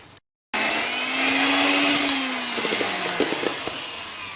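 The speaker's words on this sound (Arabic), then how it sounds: "بعد ما خلطتها بالخلاط الكهربائي باش تنسجم ليا مزيان" An electric blender whirs as it mixes a spirulina-based natural green food colouring, starting abruptly with a loud, steady motor whine that shifts slightly in pitch and runs continuously.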